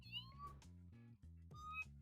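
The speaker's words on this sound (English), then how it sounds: "There's a cat." A cat meows repeatedly in a video game, with drawn-out rising meows over a steady game music bed, moderately loud and close.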